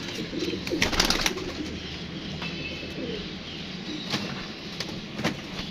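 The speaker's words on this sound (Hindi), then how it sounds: "ये भी कबूतर है, कबूतर का पुत्र है यार" Pigeons coo in a pigeon-keeping loft, a continuous low murmur of overlapping calls with a few brighter rustles and flutters, fairly close and steady throughout.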